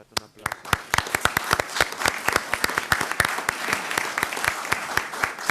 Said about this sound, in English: we once again want to give you a round of applause